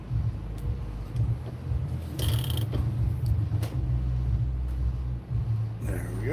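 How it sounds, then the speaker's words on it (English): A spool is cranked to tighten it, producing low mechanical rumbling and grinding with intermittent creaks and clicks, fairly close. "As soon as I apply pressure to it and crank on the spool, you're gonna see it tighten right back up."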